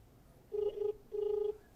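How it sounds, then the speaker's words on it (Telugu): Two steady tonal bursts of a telephone ringback tone during an outgoing call, the second longer than the first, fairly faint and clear against a quiet line with no talking. "ఫోన్ రింగ్ అవుతుంది"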